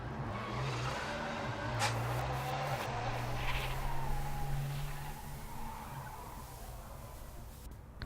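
A race car at an autocross event spins out, its tires skidding and squealing in a long smear of sound over a steady engine drone, heard from a distance and fairly faint.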